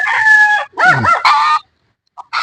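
A red junglefowl (labuyo) rooster crows loudly and close at a small chicken farm, two or three strained harsh bursts in quick succession, followed by a short clucking call.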